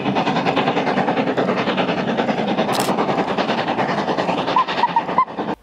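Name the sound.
Jacobite train, the Hogwarts Express, passing at Glenfinnan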